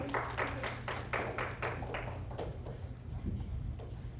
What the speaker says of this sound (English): The clapping that you hear are students in the other classes that will be coming up as they're waiting in the wings